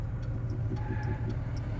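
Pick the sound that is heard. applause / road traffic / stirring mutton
road traffic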